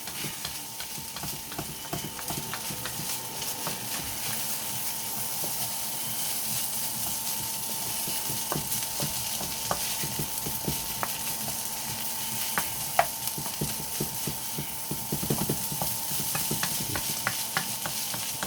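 Egg fried rice is stir-fried in a pan on high heat, giving a continuous close sizzle with steady scraping and tossing sounds and occasional sharper clicks of the utensil against the pan.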